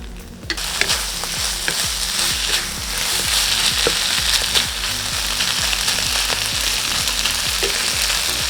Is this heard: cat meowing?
no